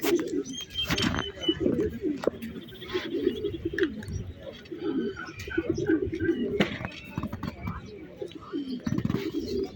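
Pigeons cooing at an outdoor pigeon fair, a continuous low murmur of coos and rustling close by, mixed with people chatting and occasional sharp knocks.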